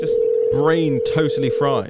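A telephone dial tone hums as a steady, unbroken pitch while a call to a show guest is placed. Someone talks over it throughout, and the tone stops just before the end.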